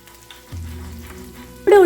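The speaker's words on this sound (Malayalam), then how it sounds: "നമ്മുടെ ചെറിയുള്ളി പച്ചമുളകും കൂടെ ചേർത്ത് നമുക്കിതൊന്ന് മൂപ്പിച്ചെടുക്കണം" Chopped shallots and green chillies start sizzling in hot oil in a pan partway through, a steady low fry that flares into louder, sharper spitting near the end.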